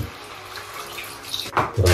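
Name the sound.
water poured into cooking pot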